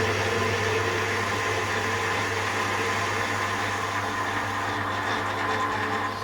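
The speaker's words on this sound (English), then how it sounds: "We can use the power feed to take a cut" A lathe runs on power feed, taking a steady cut across the face of a ride-on model locomotive buffer, giving a continuous even motor hum with a faint whine and no pauses.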